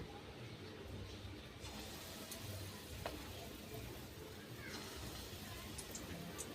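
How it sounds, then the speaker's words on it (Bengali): Mango fritters fry in hot oil, giving a steady, even sizzle with faint bubbling that holds at a moderate level from start to finish. "এখন দেখলাম তেলটা বেশ ভালো করেই গরম হয়ে গিয়েছে। এইবার বড়ার শেপে দিয়ে দিয়ে বড়াগুলো ভেজে নেব।"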